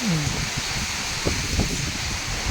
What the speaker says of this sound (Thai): ดูลมแรงมากนะครับผม ฝนตกตอนนี้เวลาประมาณ บ่ายสองกว่า